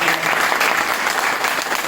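Sustained audience applause fills the whole stretch, dense and steady, from a crowd at a motivational business seminar.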